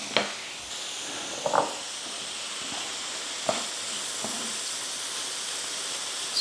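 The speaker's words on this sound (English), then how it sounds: "Let's put the shrimp down in there close to the heat" Shrimp sizzling in a hot pan for low-carb cauliflower paella, a steady broad frying hiss throughout, with occasional louder pops and clinks over it, close by.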